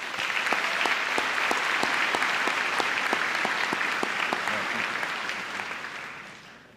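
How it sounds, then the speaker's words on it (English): Graduation ceremony audience applauding steadily for a student, dense claps sustained at an even level for several seconds before slowly thinning and fading at the end. "Let's give him a round of applause."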